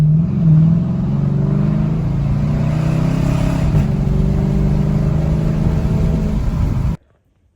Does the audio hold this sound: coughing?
no